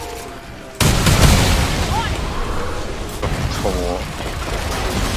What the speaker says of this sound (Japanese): この爆風は何なの。